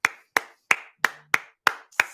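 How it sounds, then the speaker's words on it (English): Seven crisp, evenly spaced single hand claps from one person, each short with a quick decay and nothing else between them, given as a round of applause during a live LSU football stream. "round of applause for Jonathan"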